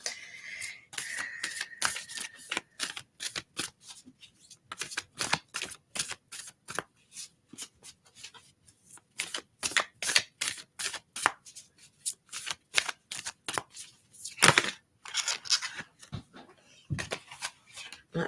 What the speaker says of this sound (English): It takes me a little minute to get to the flow of the shuffle.